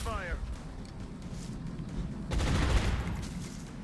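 Distant, low-level gunfire from the game Long War in an Ironman Impossible campaign, a muffled rattle with a louder burst near the end.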